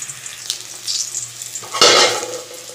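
Food frying in a covered pan with poppy-seed paste added gives a soft crackle with light stirring and scraping, then a louder burst of sizzling when the lid is lifted, heard close and alone.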